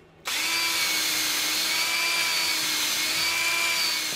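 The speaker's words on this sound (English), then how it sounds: "So we're going to drill a hole in a single slab." A power drill bores a hole into a timber slab at a radio frequency vacuum kiln, starting abruptly and then whining steadily and loudly at close range for several seconds.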